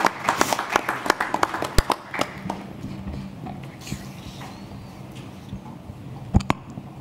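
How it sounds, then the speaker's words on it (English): A few people at a green growth conference in Kigali clap in sharp, sparse bursts that thin out, with talking and a couple of loud isolated claps later on. "A round of applause, please."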